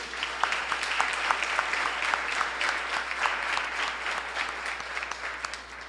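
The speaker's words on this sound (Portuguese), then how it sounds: "Vamos aplaudir o Senhor Jesus?" A church congregation claps steadily together, a sustained round of applause of moderate loudness with no speech over it.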